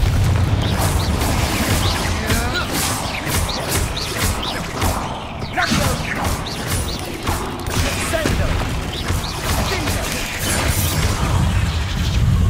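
Bombarda and Confringo spells exploding in Hogwarts Legacy, a dense run of loud booms, crashes and whooshing blasts throughout, with voices speaking over the combat.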